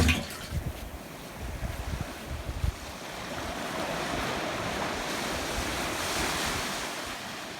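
Ocean waves roll and crash continuously close by on a sandbank, a broad surging wash with strong wind buffeting the microphone, heavier and choppier at the start.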